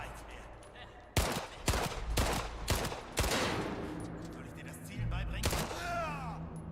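Several loud shotgun blasts in the Rainbow Six Siege video game, four in quick succession and another a few seconds later, booming close over game noise, with a player talking.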